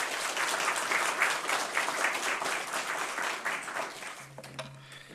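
A church congregation at a New Year revival meeting claps to welcome the pastor. Broad, sustained applause fills the room before thinning out near the end, when a low steady tone enters.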